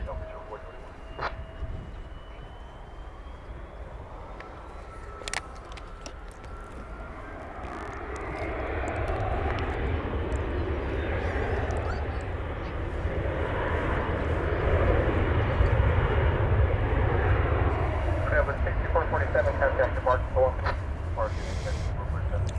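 An airliner takes off at DFW Airport, its jet roar building from distant to louder and sustained. Radio chatter and a nearby voice are heard over the engine noise.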